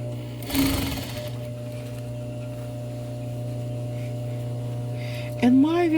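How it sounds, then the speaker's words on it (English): A sewing machine runs steadily through a dress seam over a constant hum, with a louder whirring surge near the start and again toward the end. "Let me stitch a little bit more"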